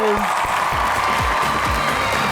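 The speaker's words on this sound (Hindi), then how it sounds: "आप सबकी तालियों में तशरीफ लाते हैं अली सिकंदर एंड आयशा परवेज" Studio audience applauding and cheering as two guests, social media influencers, arrive on a talk show, steady dense clapping with background music tones and an occasional whoop.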